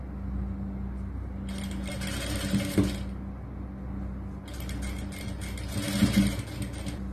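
A sewing machine stitching the lining of a churidar top, two bursts of rapid whirring stitching separated by a pause, close and steady, with no talk.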